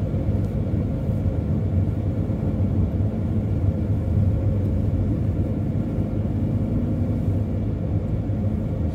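Mercedes-Benz Sprinter van driving at night through the snowy Harz near Torfhaus in winter, around 50 km/h: a steady low engine and road rumble from inside the cab, continuous and even, with no voices.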